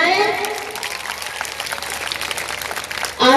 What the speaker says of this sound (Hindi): आप अपने स्कूल के लिए पहले एक बार जोरदार तालियां बजाएं